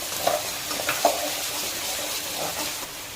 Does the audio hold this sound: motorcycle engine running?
no